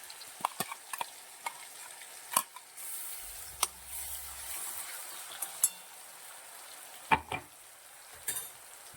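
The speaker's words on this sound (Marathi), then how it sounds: "मिक्सरच्या भांड्यातली पेस्ट आपल्याला ह्याच्यात टाकून द्यायची आहे पूर्णपणे आपल्याला ही पेस्ट तळून घ्यायची आहे" A ground masala paste fries in a pan, a soft continuous sizzle with occasional sharp clinks and scrapes of a spoon against the pan, quiet and close with no talking.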